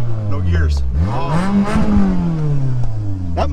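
A Toyota car engine revs loudly and close by, its pitch sweeping up and down in a couple of surges, with voices speaking over it.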